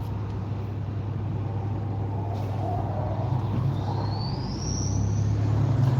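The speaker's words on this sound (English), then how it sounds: "this F-250 is a turbo diesel, and every time they press the gas, you just hear the turbo spool up" A Ford F-250 turbo diesel truck idles with a steady low rumble, then a rising turbo whine climbs and swells as the throttle opens, close by with no talk.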